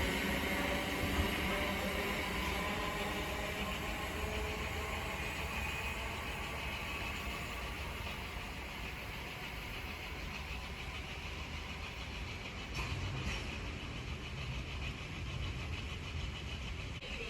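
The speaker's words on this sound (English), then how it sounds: "Now arriving is the 1512 London North Western Railway service from London Euston to Milton Keynes Central, being worked by a lot of Class 350 Desiros" A London Northwestern Railway Class 350 Desiro electric train, running the London Euston to Milton Keynes Central service, pulls into a station with a steady, broad rumble and hum that swells slightly before easing, heard from the platform.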